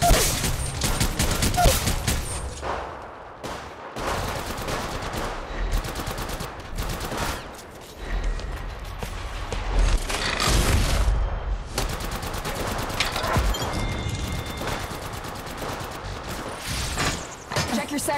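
Continuous automatic gunfire in an Apex Legends Mobile match, with rapid rattling bursts and scattered single shots layered close and at a distance, near-constant over about eighteen seconds with brief lulls.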